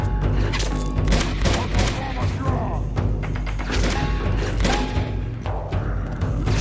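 Dense gunfire rattles in Uncharted 2: Among Thieves during a fight in Shambala, rapid shots and heavy thuds piling up loudly and continuously with game music underneath.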